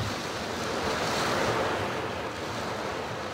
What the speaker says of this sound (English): There's waves breaking on the concrete dock.